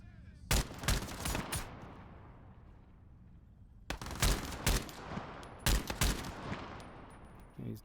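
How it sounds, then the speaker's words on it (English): Video game gunfire in Exploring the Radius comes in rapid bursts of sharp, loud shots, one burst early and two more clusters later, with quieter game ambience between them. "Shooting from the roof."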